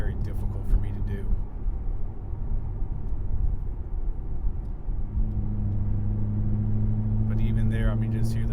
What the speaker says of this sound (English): Listen to the exhaust, there's no drone whatsoever.